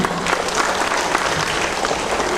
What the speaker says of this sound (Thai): ขออนุญาตขอเสียงปรบมือให้กับทีมงานเอสคาด้วยค่ะ